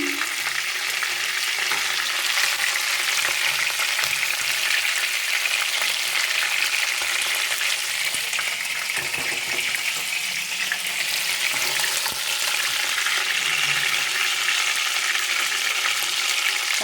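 Milk chicken pieces fry in a pan with a dense, steady sizzle and crackle that carries on throughout, with occasional soft scrapes as pieces are moved.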